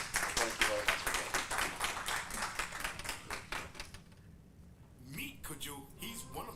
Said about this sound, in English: So once again, let's clap for everybody.